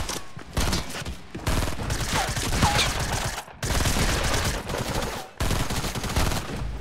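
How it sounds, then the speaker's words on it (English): Rapid bursts of gunfire from a full squad shooting in Fortnite, loud and sustained with dense overlapping shots and a few brief pauses, no speech over it. "there's a full squad firing."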